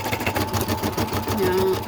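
An older, fairly loud sewing machine stitches a monogram onto a potholder, a steady fast mechanical whir and chatter running continuously at close range.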